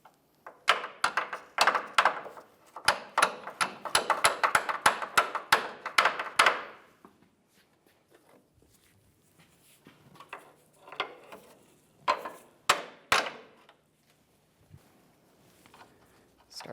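A hammer tapping a control arm mounting bolt into a car's front suspension, a rapid run of sharp metallic taps, then a pause and a few more scattered strikes, close and clear.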